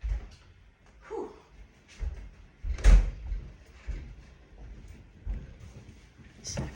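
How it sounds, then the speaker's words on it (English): An indoor door being shut in a lounge, heard as a few soft knocks and one firmer thud near the middle, with quiet room noise between. "Just gonna shut the door because I'm gonna put the aircon on."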